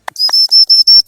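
A dog training whistle for a retrieving dog sounds in a series of sharp, piercing high blasts, four short steady tones in quick succession after a brief initial chirp, loud and close.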